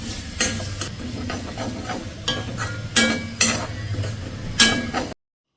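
Onion puttu mixture stirred in a pan, a spoon scraping and knocking against the metal in several sharp bursts over a low background sizzle, close up and without talk.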